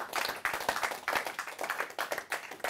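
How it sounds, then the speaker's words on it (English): Audience at a men's conference clapping in a short, uneven burst, hand claps sharp and close, rising and falling over a few seconds with no voices. "give yourselves a round of applause for making it out here"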